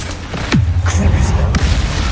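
A Bombarda spell blast in the video game Hogwarts Legacy gives a loud, booming impact with a falling swoosh, then a deep rumbling tail and a sharp second crack, while a voice speaks over it.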